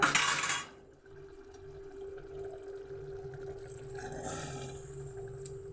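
Water poured briefly into a pressure cooker while a mutton curry with cucumber is cooked at home, a short splash at the start followed by a quieter steady hiss and faint kitchen clatter.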